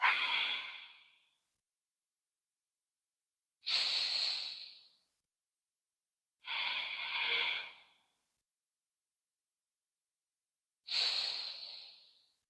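Slow, deep yoga breathing, four long audible breaths, each a soft airy hiss through the nose, close and quiet, with several seconds of silence between them.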